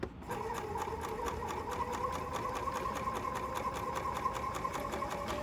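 A BERNINA L460 overlocker runs steadily, stitching a flatlock seam through two pieces of fabric, its rapid even needle rhythm holding a constant hum for several seconds with no talk.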